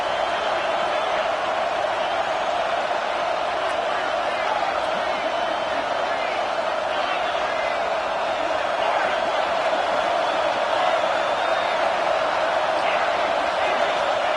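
Steady roar of a large stadium crowd at an American football game, loud and continuous throughout, swelling slightly near the end during a third-down play.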